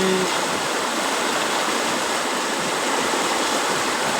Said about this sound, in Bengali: পানির যে স্রোত, পানি যেভাবে টানতেছে, আমি তো আগাইতে পারতেছি না।